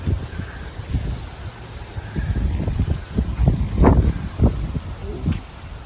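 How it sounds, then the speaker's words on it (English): Strong wind sweeping across an outdoor disc golf course at a river nature park, buffeting the microphone in uneven low rumbling gusts that rise and fall throughout, with no talking. "Really windy."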